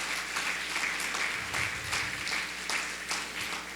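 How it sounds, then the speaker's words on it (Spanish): A church congregation in El Salvador claps for Jesus during a sermon, a steady patter of applause heard fairly faint and distant, with no talking over it. "Démosle un aplauso a Jesús"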